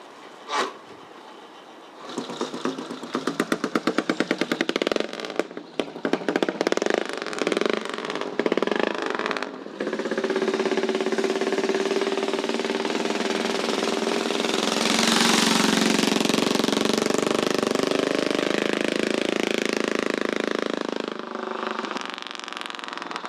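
An AJS V-twin world speed record attempt replica motorcycle fires and runs close by, first with sputtering bursts and choppy revs, then settling into a loud, sustained roar that climbs midway and eases toward the end.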